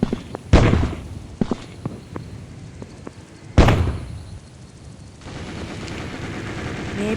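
Two heavy, booming bomb blasts in the Strike Ops shooter game land several seconds apart amid scattered gunshots and thuds, with a lingering rumble after the second.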